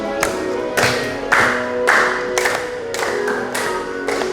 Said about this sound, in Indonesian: Sambil tepuk tangan boleh.